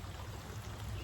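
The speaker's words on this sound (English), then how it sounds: "I have my own little teeny tiny waterfall." A tiny waterfall in a creek near a parked van splashes and gurgles steadily and close, as a continuous broadband rush with a low rumble underneath and no voices.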